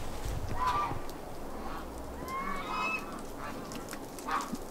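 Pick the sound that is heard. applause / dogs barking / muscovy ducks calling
muscovy ducks calling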